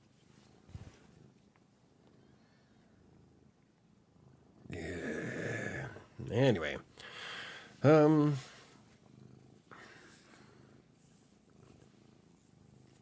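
A cat purrs and murmurs at close range in a low, rough rumble, with a few louder vocal bursts of purring or chirping mixed in and brief talk at the start.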